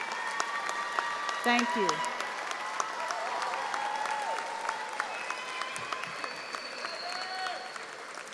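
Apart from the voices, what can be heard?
applause for parents, grandparents and guardians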